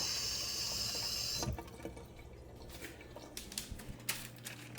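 Tap water runs steadily onto salmon fillets being rinsed under a kitchen faucet, a loud continuous stream that cuts off after about a second and a half, leaving quiet handling sounds and light clatter.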